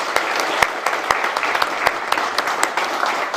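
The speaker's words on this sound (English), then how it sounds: "So a big applause to a great panel." Audience applause for a panel at the close of a trade and cooperation discussion, a steady wash of many hands clapping with sharper individual claps standing out, fairly close and sustained.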